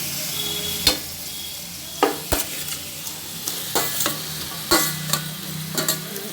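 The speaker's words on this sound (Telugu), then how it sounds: "ఇప్పుడు మనము ఈ కడిగి పెట్టుకున్న మాంసం ముక్కల్ని వేయాలి." Washed mutton pieces go into a pan of frying onions, ginger, garlic and turmeric for a biryani, giving a steady close sizzle broken by sharp scrapes and knocks of a spoon stirring.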